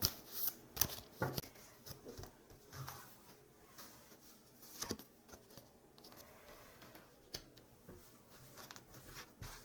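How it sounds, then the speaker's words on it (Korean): Tarot cards are shuffled and drawn at close range, making a quiet riffle with soft papery slaps and flicks, a denser run at the start and then scattered taps, with no voices. "한번 조언 카드 뽑아볼게요"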